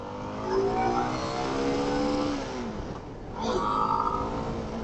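A motorcycle engine revs close by, its pitch climbing and falling in loud sweeps, briefly easing off before roaring up again.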